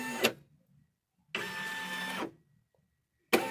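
A Baby Lock Flourish embroidery machine with a thread-skipping fault whirs into motion after a button press, a steady mechanical motor hum lasting about a second, bracketed by brief clicks, with quiet room sound between.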